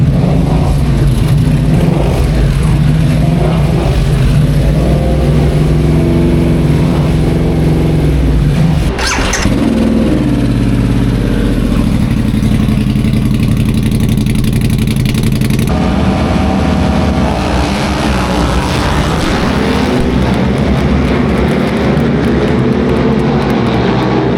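Super Hooligan racing motorcycles warm up at a track, a loud continuous engine drone with revving swells and a shift in pitch midway, several bikes running together without voices.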